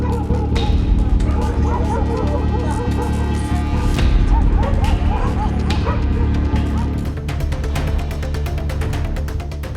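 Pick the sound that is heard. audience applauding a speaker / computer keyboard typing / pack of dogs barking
pack of dogs barking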